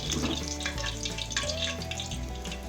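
Pieces of chicken fry in hot oil for Bengali-style chilli chicken, a dense continuous sizzle and crackle heard close up with no talking.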